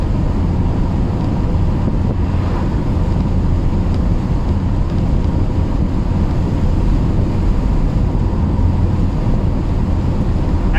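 Steady, loud roar of wind and road noise surrounds an open-top Mercedes-Benz SLK 200 (R171) driving with its folding hardtop down, a dense continuous rush with no voices.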